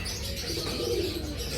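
Local pigeons cooing at a hobby market in Makassar, soft low coos under a steady background hum of the market.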